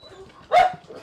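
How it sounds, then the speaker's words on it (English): Dogs at an outdoor off-road park bark in one loud, brief burst midway, with quieter ambient activity around it and no speech. "We also have a dog park going on."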